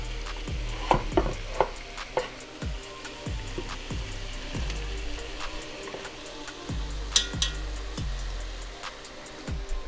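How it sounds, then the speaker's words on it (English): Garlic and onions cook in a skillet, a steady sizzle and crackle of frying with repeated scraping and tapping from stirring at roughly regular intervals, fairly close and with no talk. "let the garlic and onions cook a little bit"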